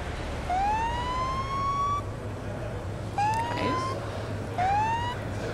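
A police car siren in the Police Simulator: Patrol Officers video game wails loud and close in three rising sweeps, the first one long and the next two shorter, over a steady engine rumble.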